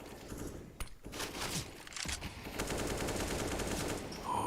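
M4A1-S suppressed rifle fire in Counter-Strike: Global Offensive during a pro match, heard as rapid muffled shots in a quick rhythmic burst amid busy game noise.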